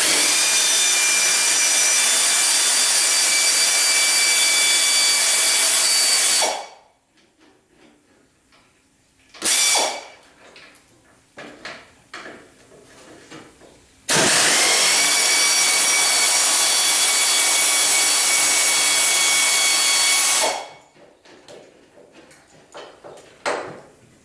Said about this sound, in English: This is just a 3/8 air ratchet, so sometimes you need more oomph.